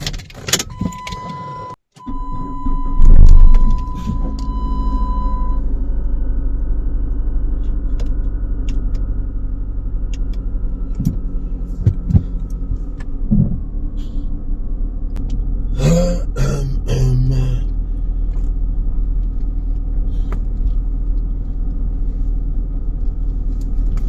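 A cruiser motorcycle engine, cold in the morning and suspected of misfiring, starts and settles into a steady, deep, loud idle close by, with a few louder clattering bursts partway through.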